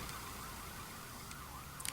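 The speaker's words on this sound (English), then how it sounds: "if you're hearing sirens, yeah, sorry about that" A faint emergency siren wails steadily outside, distant and muffled indoors, under a constant noisy background and a few brief clicks near the end.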